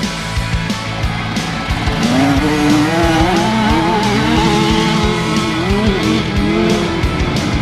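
Two small dirt bikes, a Kawasaki KX 65 and a Cobra 50 Jr, race each other. Their high-pitched engines rev hard, rising and falling in pitch through gear changes. The sound is loud and continuous, with no talking.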